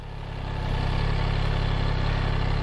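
A motorcycle engine rising from idle as the throttle is rolled on gently, a steady close drone with a pulsing low rumble that swells over the first second and then holds at a higher, even pitch.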